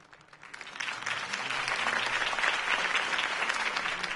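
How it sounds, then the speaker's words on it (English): A crowd applauding steadily in a PS4 Batman game, rising quickly from a soft start to a full, continuous clatter of clapping that holds for several seconds. "If only Mr. Wayne, my campaign's largest backer, could have heard that applause"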